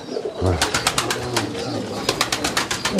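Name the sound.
pigeons cooing inside a coop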